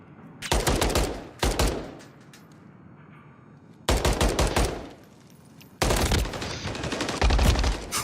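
Rapid automatic gunfire from a Call of Duty Modern Warfare III ranked multiplayer match, loud close bursts with quiet gaps between them.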